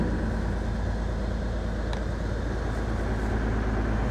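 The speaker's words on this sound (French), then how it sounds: "Je laisse la batteuse tourner le temps qu'elle chauffe un petit peu" A combine harvester engine running steadily at idle while warming up during a 2018 barley harvest, a constant low, broad mechanical drone with no breaks.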